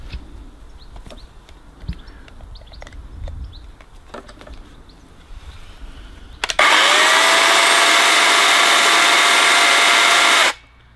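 A Stihl MSE 190 C-Q electric chainsaw starts abruptly after a few seconds of quiet outdoor ambience with faint birds. It runs with a loud, steady high whine for about four seconds and then cuts off sharply as it brakes.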